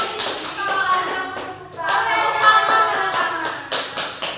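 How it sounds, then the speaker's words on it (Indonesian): A group of children clap their hands in a classroom during a storytelling lesson, a dense patter of quick claps rising and falling in bursts with a few young voices mixed in. "tepuk tangan"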